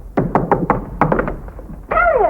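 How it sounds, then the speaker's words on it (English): Knocking at a house door in a 1943 wartime film scene: a brisk series of loud, close wooden knocks in two quick bursts, followed by a sustained voiced sound at the end. "Sounds like someone's knocking at the door."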